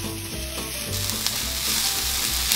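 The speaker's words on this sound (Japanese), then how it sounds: "2、3分炒めて片側に移動させる" Onions and green peppers stir-frying in hot olive oil in a frying pan over medium heat, a steady close sizzle with soft scraping and clinks of a utensil moving the vegetables.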